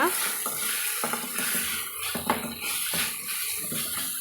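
Chicken and coriander leaves sizzle in a hot frying pan while a utensil scrapes and stirs through them in several separate strokes, close by.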